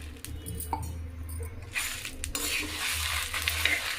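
Peppercorns and rice dry roasting in a pan for sambar powder, stirred continuously with scraping strokes and occasional light clinks against the metal, close and steady throughout.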